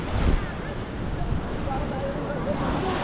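Ocean waves crash at Butterfly Beach in South Goa in a steady, loud, close roar of surf, with gusting wind buffeting the microphone throughout.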